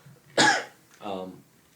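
A single sharp cough in a musty attic, followed a moment later by a softer, voiced throat-clearing sound, close to the microphone.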